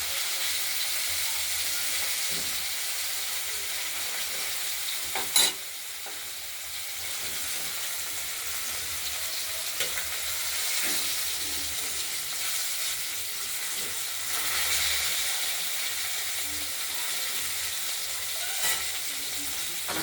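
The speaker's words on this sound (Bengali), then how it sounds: "এবার আরেক পিস ভাজা হয়ে গেলে তারপর তুলে ফেলবো।" Pieces of katla fish fry in hot oil with a steady, continuous sizzle and crackle lasting throughout, plus a sharp clatter or two from utensils in the pan.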